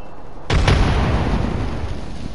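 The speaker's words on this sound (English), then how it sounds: "Frag grenade sent" A frag grenade detonates in Apex Legends gameplay, a sudden loud boom that hits at once and leaves a long rumbling, crackling tail of debris and noise.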